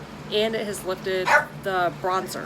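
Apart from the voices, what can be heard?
dog barking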